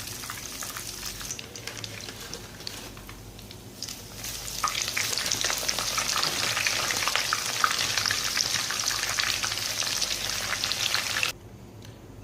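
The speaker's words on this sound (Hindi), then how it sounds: "दूसरी साइड से भी 10 से 12 मिनट इसको फ्राई किया।" Lachha chicken tikka frying in a pan, a continuous crackling sizzle that swells louder midway and cuts off abruptly near the end, with no voices.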